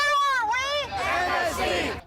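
Crowd of student protesters, including students from Marjorie Stoneman Douglas High School, at a massive March For Our Lives rally: loud voices cheer and chant, with one prominent rising and falling shout over the noisy crowd.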